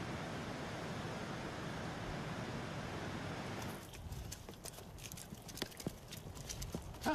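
Donkeys carrying jade walk along a trail, their hooves clip-clopping in an irregular rhythm after a few seconds of steady rushing noise, fairly faint and with no talk.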